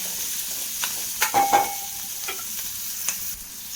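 Curry leaves and onions sautéing in a pan for a Kerala-style brinjal masala curry, with a soft continuous sizzle and scattered clinks and scrapes of stirring close by.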